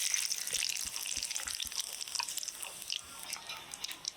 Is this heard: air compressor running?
no